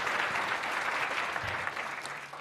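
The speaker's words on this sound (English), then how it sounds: "I think Prof deserves a bigger round of applause, really." Steady, dense applause from an audience at an evening mathematics and science awards ceremony, a continuous wash of many hands clapping with no pauses.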